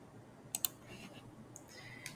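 A few quick keyboard clicks, typing a short command into a Windows command line terminal and pressing enter, sound as faint, close taps spaced out over a quiet background.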